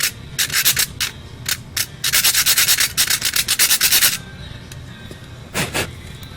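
A tool cutting into a screw on a 1/64 scale NASCAR diecast car, with loud bursts of close, harsh rasping grinding in repeated strokes and short pauses between them.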